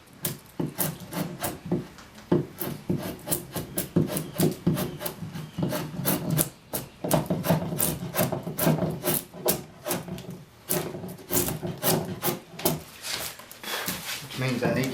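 Scorp carving across the grain of a wooden chair seat sweep, a steady run of close, rasping scrapes in quick irregular strokes with no talking.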